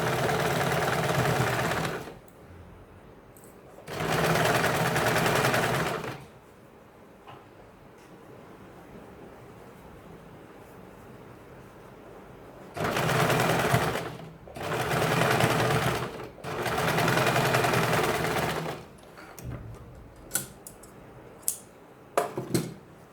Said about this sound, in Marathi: तर अशा पद्धतीने आपण याच्यावर एक शिलाई मारणार आहोत.